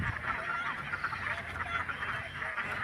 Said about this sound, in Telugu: సుమారు ఒక 2000 బాతులు అయితే ఉంటాయి వాళ్ళ కాడ.